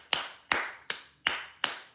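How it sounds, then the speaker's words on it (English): Five separate sharp hand claps spaced about half a second apart, each crisp strike trailing off quickly, close and alone. "For the first time ever, Joker gets a round of applause."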